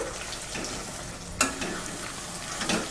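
A spoon stirs tomato coriander chutney in a pan over a low sizzle, with scraping strokes and a couple of sharp clinks against the pan, no voices.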